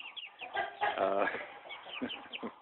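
Several chickens cluck and murmur close by, short soft calls overlapping with one louder squawk in the middle.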